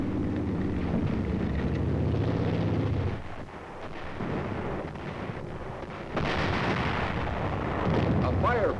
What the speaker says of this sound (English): A firefight begins.